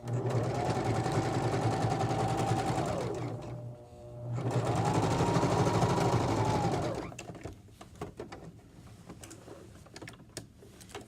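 A sewing machine stitches the seam of a drawstring bag in two steady whirring runs separated by a short pause, loud and close, followed by quieter clicks and handling sounds.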